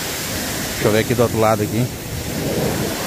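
Strong water spray hitting a vehicle during a wash makes a steady broadband hiss that runs through the whole clip, with someone talking over it partway through.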